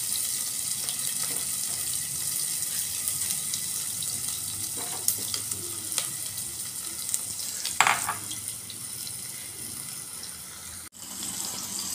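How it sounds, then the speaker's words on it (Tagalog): Fried milkfish sautéed with fermented black beans in a pan: a continuous close hiss of frying with scattered stirring scrapes and a few sharper clinks, and no talking. "Gisa-gisa na tayo."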